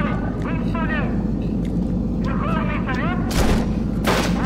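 Rifle fire in the first-person shooter You Are Empty, with two loud booming blasts near the end over steady game background noise, while someone talks throughout.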